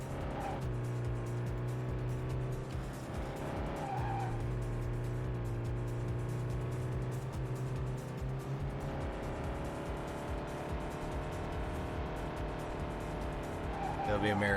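Engine of a car in the Dreamcast racing game Vanishing Point, a steady, loud droning whine with shifting pitch and occasional tire noise, continuous throughout, with a voice talking over it.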